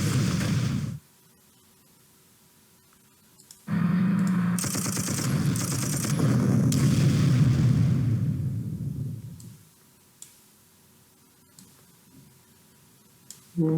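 Artillery fire in the wartime strategy game Panzer Corps, a burst of rapid, rattling gunfire and heavy booms lasting several seconds after a quiet lead-in, loud and close, fading to near silence afterward.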